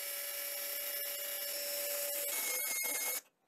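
A drill bores a hole in steel with a steady, harsh high grinding whine that runs unbroken for about three seconds, then cuts off abruptly.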